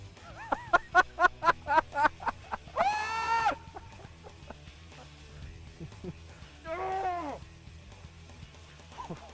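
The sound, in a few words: ducks quacking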